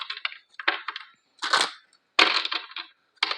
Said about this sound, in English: I'm going to do a quick shuffle since I had all those cards there